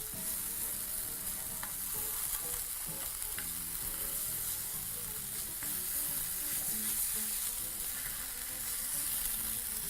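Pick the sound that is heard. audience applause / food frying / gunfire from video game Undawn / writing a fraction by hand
food frying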